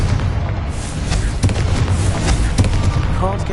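Confringo explosive spell cast in the video game Hogwarts Legacy, a series of loud booming blasts and sharp cracks over a rumbling battle din, with no talk over it.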